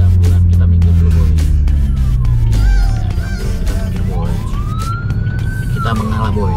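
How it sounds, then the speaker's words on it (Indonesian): An ambulance siren wails with rising and falling tones over a low vehicle engine rumble, growing more prominent as it passes close by. "Wah, ada ambulan, kita minggir dulu boy."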